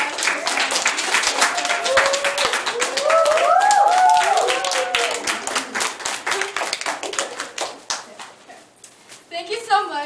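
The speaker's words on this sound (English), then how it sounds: "Please give Ms. Mango and Ms. Cooley a round of applause." A school mock interview audience applauds two guests with dense, rapid clapping that stays strong for several seconds, then thins and fades, while a voice speaks over it.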